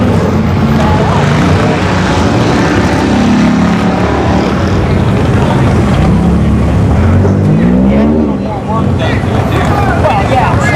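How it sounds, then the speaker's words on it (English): Toyota A90 Supra racing down a dragstrip, a loud, sustained engine roar with rising and shifting pitch that fills the whole stretch, dense and continuous, with crowd and track noise underneath. "Bad for A90 Supra though. Yeah. That's a Supra."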